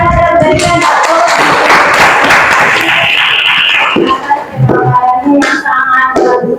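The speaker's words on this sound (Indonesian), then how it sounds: "Mari sama-sama kita berikan aplaus." Applause from a classroom audience of students and teachers after a group presentation, a dense steady clatter of many clapping hands that tapers into scattered claps near the end.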